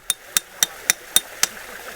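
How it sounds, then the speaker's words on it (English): A hammer strikes a chisel to cut into stone for a pond waterfall: six sharp, evenly spaced metallic clinks, close and crisp, with quiet gaps between each blow. "chiseling out part of the stone"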